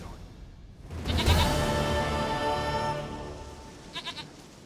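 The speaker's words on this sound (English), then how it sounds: "Goat of mine, dearest," A goat bleats in The Witcher 3: Wild Hunt, set in Velen. One drawn-out, wavering bleat sounds up close over ambient game background, followed by a couple of short bleats near the end.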